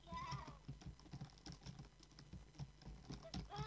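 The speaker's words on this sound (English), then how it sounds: "I bet you guys can hear how much I'm clicking on my keyboard." Rapid, irregular computer keyboard clicks tapping away close up, mixed with busy Roblox game sounds and soft background noise.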